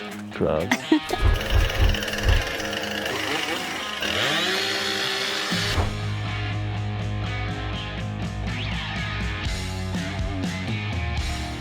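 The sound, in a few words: chainsaw cutting wood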